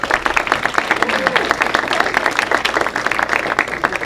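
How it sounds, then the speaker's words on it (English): An audience at a hypnotist's stage show gives two women a round of applause, with fairly close, distinct claps rising and falling while voices are heard in the crowd. "Let's give these two fine ladies a big round of applause."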